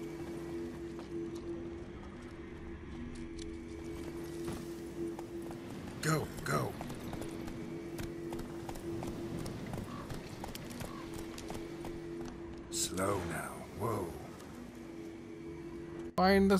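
Horse hooves clip-clopping at a steady pace in The Witcher 3: Wild Hunt on PS5, a continuous rhythmic patter under game ambience and music, with brief louder bursts and someone talking over it.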